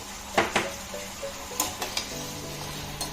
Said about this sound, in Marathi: आता टोमॅटो छान असा मऊ होईपर्यंत परतून घेऊया